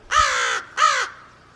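Crows give two loud, harsh caws close by, each about half a second long and separated by a short gap, against a quiet background.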